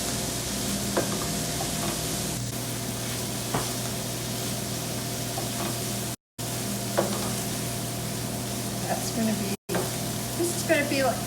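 Chopped fresh tomatoes hitting a hot pan for a burrito bowl filling, a steady sizzle and frying hiss with occasional stirring clatter, close and continuous with two brief dropouts.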